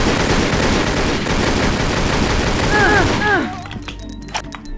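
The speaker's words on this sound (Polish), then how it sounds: "Co do mnie strzela?" Rapid gunfire aimed at the player in the Tomb Raider Legend Demake game, a dense loud burst of shots that fades out near the end.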